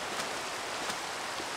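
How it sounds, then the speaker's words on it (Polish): Rain falling in the video game Minecraft, a steady hiss of soft rainfall at low level with a few faint drop accents, no talk. "Czemu pada?"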